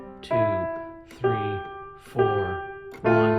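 A piano plays the first line of the children's song Love Somebody with both hands together, four evenly spaced struck chords ringing out clearly and close, with no voices.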